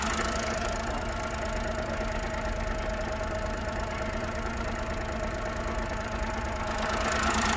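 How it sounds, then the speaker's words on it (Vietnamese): A 2009 car engine idling steadily, a continuous close rumble with even mechanical vibration and no talk. "Máy nổ ngon"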